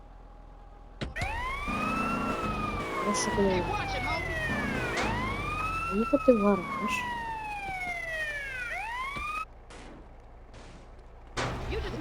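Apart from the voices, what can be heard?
police car siren in video game GTA San Andreas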